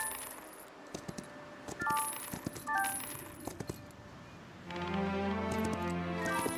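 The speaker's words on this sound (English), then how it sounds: "When you hear that sound, that's me clicking E to move, like get new moves" Day-passing chime from the video game Heroes of Might and Magic Olden Era: a few soft clinking, coin-like taps, then a bright sustained musical jingle swelling near the end, fairly quiet and alone.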